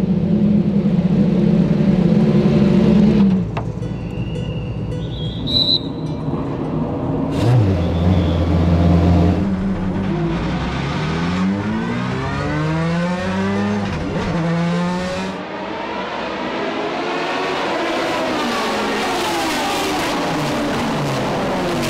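Classic race cars at Mugello circuit roar past on track, engines sweeping up and down in pitch with overlapping passes, loud and close, continuous throughout.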